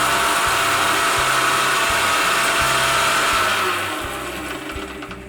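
A mixer grinder whirs loudly while grinding spices for aloo dum, the motor running steadily with a faint rhythmic pulsing before it winds down and fades over the last second or so.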